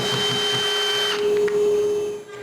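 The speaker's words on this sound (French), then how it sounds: "J'enlève ça de là et je fais les filetages." Threads are cut into wood for stair-gate hinge screws, making a steady whining power-tool drone with a bright sustained tone that drops away partway through while the motor keeps running, close and alone.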